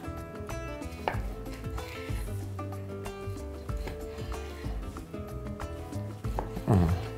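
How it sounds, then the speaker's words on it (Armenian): Beef tenderloin cut into pieces on a board: a few knife chops and clatters of kitchen utensils at intervals over background music, moderately faint. "Մի քանի կտոր անենք, որ արագ եփվի։"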